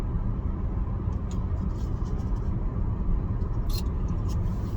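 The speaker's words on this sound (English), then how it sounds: "Driving around in circles now for the past 15 minutes." Steady low road rumble of a car driving around town at night, a continuous interior drone with no talk.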